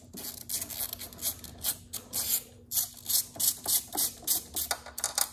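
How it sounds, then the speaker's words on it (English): A ratchet loosening a 6mm hose clamp on a Polaris turbo exhaust, a rapid series of short metallic clicking bursts in a steady back-and-forth rhythm, close and clear with no talk. "So we'll loosen up the 6mm hose clamp."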